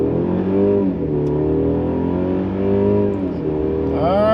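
A 2022 Mercedes-Benz C300 4Matic with a turbocharged engine pulls hard at full throttle, its loud, close engine note rising steadily in pitch, dipping briefly at a shift, then climbing again.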